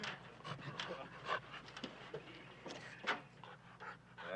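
A dog pants quietly in short rapid breaths, close by, with a faint whimper, and a person speaks over it.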